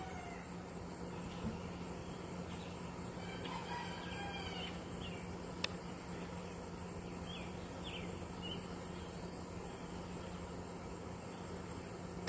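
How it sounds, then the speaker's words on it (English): A rooster crows at sunrise, faint and distant, a few calls rising over steady low hum and outdoor ambience beside foggy water. "Yeah, that rooster finally woke up"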